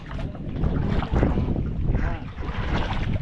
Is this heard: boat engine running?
yes